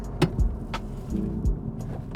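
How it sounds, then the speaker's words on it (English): Toyota 86 / BRZ sports car slowing under braking on a straight, with a steady low road and engine rumble, a couple of brief low thumps and faint clicks, heard from inside the car with no talk. "we're on a little bit of a straight. We're gonna hit the brakes in about 3, 2, 1"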